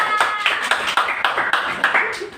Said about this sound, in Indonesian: berikan aplaus dulu untuk Alfa